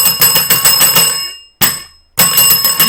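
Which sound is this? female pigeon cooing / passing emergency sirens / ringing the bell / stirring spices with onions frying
ringing the bell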